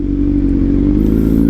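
Kawasaki Z900 motorcycle exhaust gives a steady, close, loud low rumble with a crackling texture, running throughout without talk.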